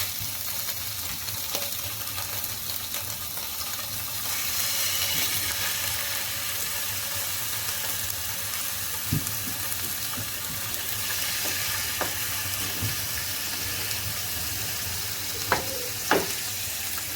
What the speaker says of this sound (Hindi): इधर पैन में मैंने ऑयल डाला है, और ये जो स्टिक्स हैं इनको मैं इसके अंदर रखूँगी